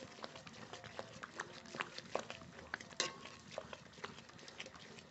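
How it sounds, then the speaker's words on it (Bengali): A ladle stirs boiling masoor lentil dal in a pot, producing quiet, steady scraping and clinking with light bubbling patter, close but faint, without speech. "হাতা দিয়ে একটু নেড়ে নেব।"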